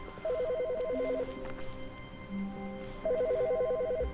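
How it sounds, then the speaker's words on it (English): Phone ringing inside The Stanley Parable video game, a trilling electronic ring in two bursts with a pause between, moderately loud over a quiet room tone. "I hear a phone ringing for some reason"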